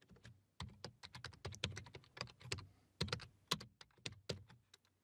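Rapid typing on a computer keyboard while entering a PowerShell command, a steady run of close, crisp key clicks with brief pauses, no voices.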